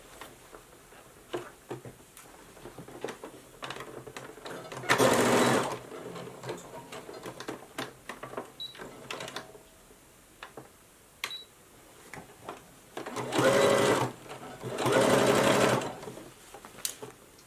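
Sewing machine stitching seams across a fabric face mask, with short bursts of fast mechanical whirring separated by pauses, three longer loud runs, and small clicks and handling noises between them.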